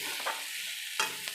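Salt, turmeric, cumin, chili powder and coriander powder sizzle in hot oil in a pan while being stirred, a steady close frying hiss broken by a few scraping stirs.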